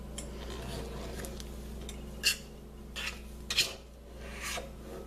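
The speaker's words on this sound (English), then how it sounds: "So I'm going to scrape that all down and bring it to the middle" A utensil scrapes whipped body butter from the sides of a mixing bowl, producing a few faint, brief scraping strokes and small clinks spaced irregularly over a steady low hum.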